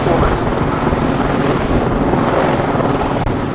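An aircraft roars past at the RAF Cosford Airshow, a loud steady broadband engine rush with wind buffeting on the microphone throughout.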